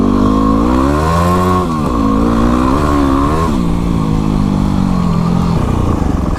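A dual sport motorcycle on a ride revs hard, its engine note climbing and dropping through several loud sweeps before settling into a steadier drone, close and continuous.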